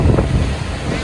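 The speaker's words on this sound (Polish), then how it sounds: "Ale wieje!" Strong wind buffets the microphone on an Icelandic beach, a loud, continuous low roar with surf-like rumble throughout the short stretch.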